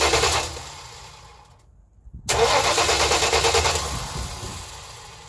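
A car engine cranked through a homemade starter kit chugs rhythmically, cuts out briefly, then cranks again in a loud, pulsing series of turns that gradually ease, heard close with no talking.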